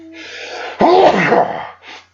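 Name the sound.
sneeze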